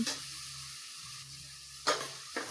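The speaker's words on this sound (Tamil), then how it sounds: "தக்காளி வந்து பார்த்தீங்கன்னா ரெண்டு கட் பண்ணி போடுங்க நல்லா இந்த இதுலேயே வந்து வெங்காயத்தில் நல்லா வதக்கிடுங்க" Halved tomatoes sauté with onions in a pan for a potato curry served with puri, making a quiet, steady sizzle. A couple of brief clinks from stirring break through.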